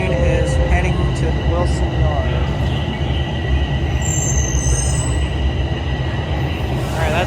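A TTC subway train rumbles through Highway 407 station, loud and close, with a steady roar, rail hum and a thin wheel squeal, while a voice talks over it.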